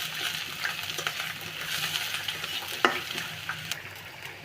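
Onions and green chillies fry in hot oil, giving a steady close sizzle with occasional stirring scrapes and small clinks, no voices.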